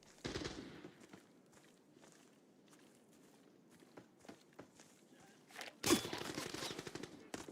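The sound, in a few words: gunfire from a video game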